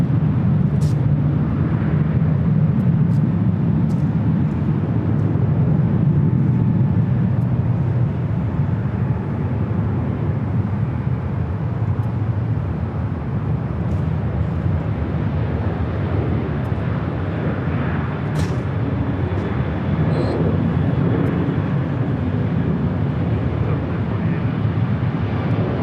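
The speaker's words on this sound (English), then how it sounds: "China Southern. This is a passenger 777 at 300ER coming in from Guangzhou." A China Southern Boeing 777-300ER passenger jet arriving at LAX from Guangzhou makes a steady, loud, broad engine roar that holds at an even level throughout, with faint distant sounds now and then.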